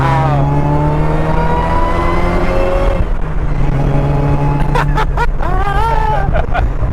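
A supercharged 1994 Mazda Miata engine revs up through the gears, loud and close from inside the car, its pitch rising, dropping at a shift, then climbing again, with voices chattering over it.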